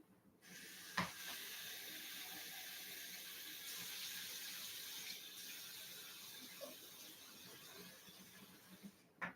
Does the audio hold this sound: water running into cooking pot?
yes